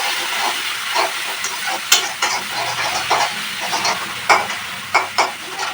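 Garlic paste and spice masala fry and sizzle in a pan with a steady hiss, broken by several sharper crackles and scraping stirs, close and loud throughout.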